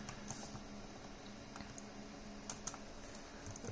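Keystrokes on an old 2007 PC keyboard, a steady patter of light clicks over a constant background hiss, with a couple of sharper taps near the end and no voices.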